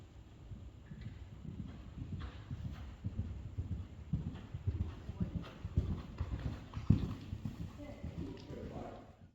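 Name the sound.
horse walking, hooves clip-clopping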